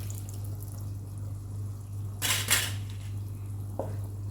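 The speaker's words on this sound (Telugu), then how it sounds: "మనం ఇందులోనే చింతపండు పులుసు పోసుకుందామండి" Tamarind juice poured into a pan of frying eggplant curry, a brief splashing burst of liquid over a low steady hum, then a small clink.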